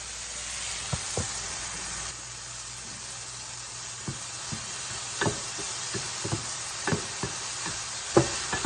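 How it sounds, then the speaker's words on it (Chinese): Tomato noodle gravy stir-fries with dark soy sauce, a constant close sizzle under repeated knocks and scrapes of a spatula against the wok at an irregular rhythm. "翻炒一会儿"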